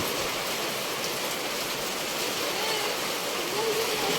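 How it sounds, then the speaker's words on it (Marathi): Heavy monsoon rain pours down in the Konkan on a dark evening, a dense, loud, unbroken hiss that fills the whole stretch with no pauses. "आय थिंक पाऊस खूप लागतोय इकडे"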